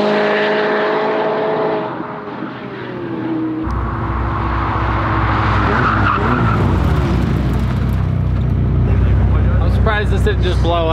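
A McLaren 570S idles, then launches hard, its engine surging as the rear tires squeal and skid, with rising revs and a shift amid the noise; people talk over it.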